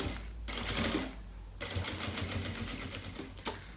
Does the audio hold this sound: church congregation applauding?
no